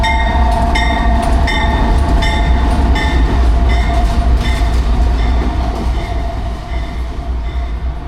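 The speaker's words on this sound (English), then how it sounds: "I think there might be a train coming." A short train rolls past close by near a tunnel at Glen Alum, West Virginia, with a loud rumble and rhythmic clickety-clack of wheels, fading slightly toward the end.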